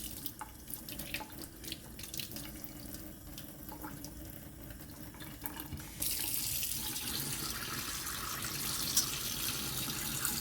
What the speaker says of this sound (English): I'm about to test the lather of the soap